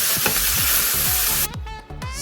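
Ground beef sizzles in a skillet, a dense steady hiss with rhythmic scraping strokes as the meat is broken up, the hiss dropping away partway through while the scraping continues.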